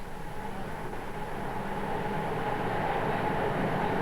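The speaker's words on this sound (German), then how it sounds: "Dieser Zug wird sie weiterbringen, ins reiche Deutschland." A train of the 1992 refugee convoy from Karlovac to Hanau rolls on with a steady, continuous rumble and rattle, heard from inside and constant throughout, without talking.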